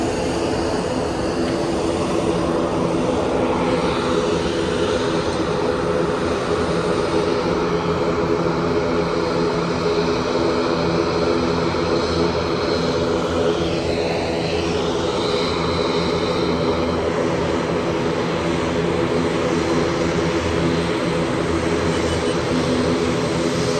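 Shree Airlines Dash Q-400 turboprop engines drone steadily in flight, a loud continuous cabin roar with a low propeller hum that holds even throughout.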